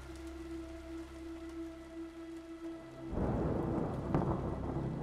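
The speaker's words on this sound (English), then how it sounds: "rain pounding on the crackled windshield of my hover" Heavy rain and thunder in the horror video game Hollowbody pound on a cracked hover-car windshield, a dense steady roar that swells suddenly loud midway over a low hum and rumble.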